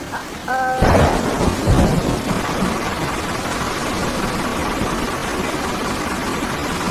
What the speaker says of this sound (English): It's raining so heavily, it's difficult to go anywhere.